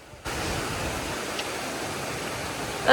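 A waterfall on a mountain hiking trail, heard as a steady broadband roar of falling water that starts abruptly and holds constant, moderately loud with no voices.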